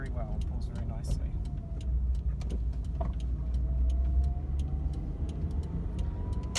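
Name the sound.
car with rebuilt Toyota 2E engine driving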